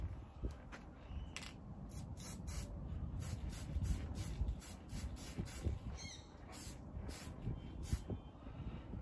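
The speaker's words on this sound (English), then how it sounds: "What we're going to do is just spray a little silver on a couple of these parts." Silver spray paint hisses onto parts of a Revell 1937 Ford Pickup model car in a series of short, repeated bursts with brief pauses between them, up close and without speech.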